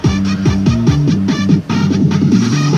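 Loud car stereo music with the loudness setting on, a punchy beat and full, boosted low end, playing close and continuous apart from a brief dip.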